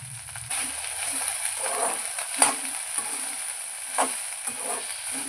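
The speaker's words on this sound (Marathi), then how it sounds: "ही भेंडी आपण व्यवस्थित आता भाजून घेऊया" Okra (bhindi) roasting in a hot kadhai, a soft, close sizzle with intermittent spatula scrapes and light clinks, fairly steady with a few sharper taps.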